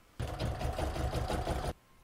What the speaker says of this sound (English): I'll pop that in my machine and I'm going to stitch round number three.